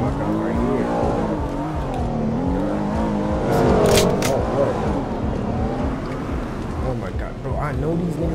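Car driving in a Roblox hood game set in the South Bronx, a steady engine drone rising and falling in pitch as it revs, with a swell of acceleration midway and people talking over it.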